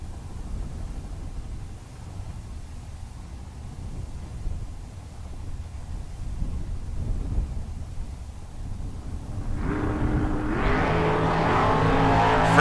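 Drag racers, a Torco Roadster and a 1969 full-bodied Camaro, sit under a low engine rumble and wind before a loud launch near the end, as engine roar swells sharply at the bracket races.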